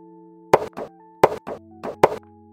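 Four hollow knocks on the original metal hubcap of a 2018 Honda Brio E, each a sharp ringing tap with a quick rebound, spaced evenly and heard close with no talking.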